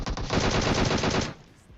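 A rapid burst of automatic gunfire in PUBG Mobile rattles for over a second, loud and close, then cuts off abruptly.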